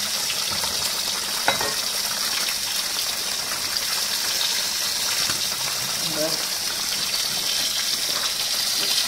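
Catla fish curry bubbles and sizzles in a pan, a steady close hiss with occasional bursts and stirring, while someone talks over it.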